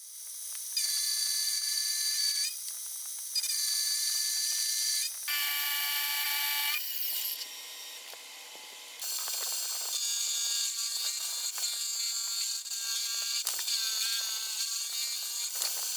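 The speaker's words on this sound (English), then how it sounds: "I'll go and remove the bulk of it with an end mill" End mill cutting the bulk of a steel block for a new lathe tool post, a steady high-pitched machining whine that cuts in and out in several long passes, alone with no voices.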